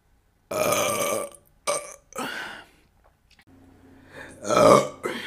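Several big, drawn-out belches from a woman drinking tequila, loud and close, with short silent gaps between them.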